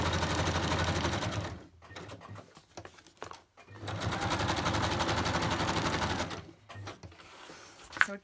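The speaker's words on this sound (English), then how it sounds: "And I'll just quickly stitch that down." A sewing machine stitches fabric down in a craft session, running in steady whirring bursts with a couple of short pauses and a final click, close and loud with no talking.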